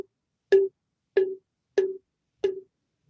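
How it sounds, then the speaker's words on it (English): A rubber band stretched around a glass bottle is plucked four times at an even pace, each pluck giving a short, soft twang that dies away quickly, close and quiet. "Go ahead and pluck the rubber band."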